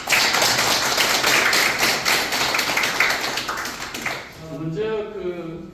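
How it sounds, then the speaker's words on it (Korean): A burst of clapping from a crowd, loud and sustained for several seconds before fading as a voice begins speaking. "박수 한번"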